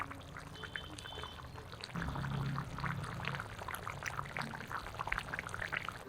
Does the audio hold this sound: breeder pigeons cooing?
no